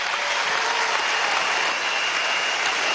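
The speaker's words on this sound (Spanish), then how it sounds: "Vamos a darnos un aplauso a todos" A theatre audience at a socialist missions plenary applauding loudly and continuously, a dense wash of many hands clapping close and unbroken, with no speech over it.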